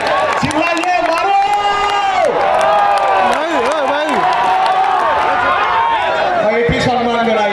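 Cricket spectators clap, cheer and whoop loudly and without a break as a batsman chases sixes off the last ball, while an excited commentator shouts over the crowd throughout.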